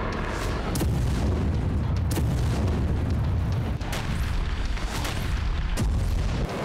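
Missile strike explosions in Ukraine boom repeatedly over a dense, continuous rumble, several sharp blasts spaced a second or so apart, loud and heavy with no voices.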